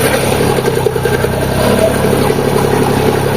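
A farm tractor's engine running steadily after sitting unused for eight months, a continuous close mechanical drone with a low throb and no speech.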